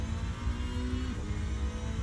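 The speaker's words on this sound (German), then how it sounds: "Ich muss es ein bisschen lauter machen, den Motor." A racing car engine in the Assetto Corsa sim drones steadily under load with a low rumbling tone and a brief higher whine, continuous and fairly near, with no talking over it.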